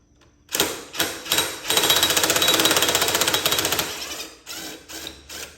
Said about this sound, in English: I actually just used an extension with a Torx bit head here, and that should work